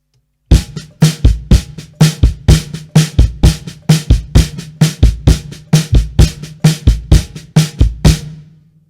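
A drum played in a steady repeating pattern of quick alternating strokes, every right-hand hit accented louder, ringing with a low tone, solo and close.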